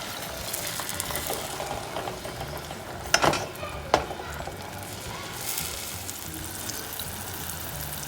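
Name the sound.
jaggery syrup being stirred and cooked in a pan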